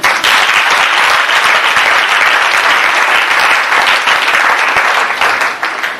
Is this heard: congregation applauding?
yes